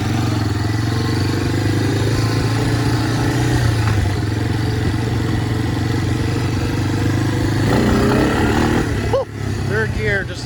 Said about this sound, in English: Third gear, just nailed the gas. She's going.